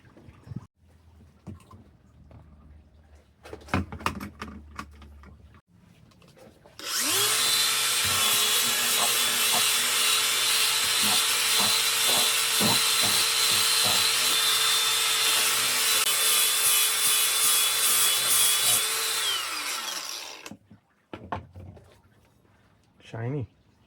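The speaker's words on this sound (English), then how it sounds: "let's get polishing." A modern-make bushcraft axe head being polished with a power tool: a loud, steady whining grind runs unbroken for about twelve seconds, framed by quieter handling knocks and speech before and after.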